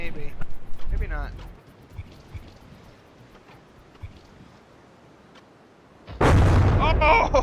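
In the naval combat game From The Depths, a shell slams into a frigate's turret with a sudden loud blast near the end, after a quieter stretch of distant rumbling and smaller pops.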